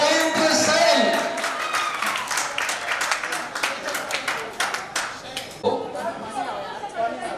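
A Hindi poetry recital audience at a gathering of visually impaired poets claps, first in a dense burst with chatter, then trailing into scattered individual claps over murmuring voices.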